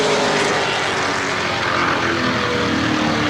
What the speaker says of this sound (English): I do detect what sounds like some missing in that automobile. It sounds like the engine might be missing.